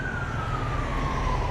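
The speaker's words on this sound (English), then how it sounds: "I can hear lots of wee-woos" Emergency vehicle sirens wail loudly and continuously outside, a single sweeping tone gliding slowly downward over a rumbling traffic backdrop.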